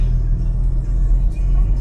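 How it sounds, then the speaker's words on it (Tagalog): Low road-traffic rumble surrounds a car stuck in a jam, a steady engine drone with soft passing swells and no distinct events. "Guys, naipit tayo ngayon sa traffic."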